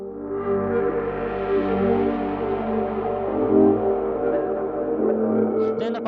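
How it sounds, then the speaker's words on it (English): Ambient pad texture from the Arcade plugin layered under a dark trap beat melody, a warm sustained wash with soft shimmer, steady and continuous throughout. "I added this ambient texture from Arcade"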